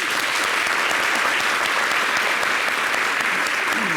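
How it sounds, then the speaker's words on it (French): Steady applause from a studio audience greeting a guest on a French-language TV talk show, a dense, even wash of clapping that holds loud and unbroken from start to finish. "Merci de l'applaudir."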